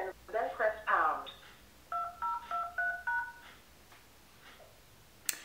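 Short run of telephone keypad DTMF tones, about six or seven distinct beeps entering a PIN at a steady pace, following a brief stretch of speech and ending with a faint click.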